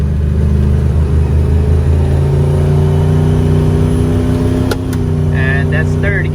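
A procharged LS3 V8 car pulls hard in second gear, a loud, close, steady engine drone with a rising whine that holds throughout, then a brief dip and squeal near the end.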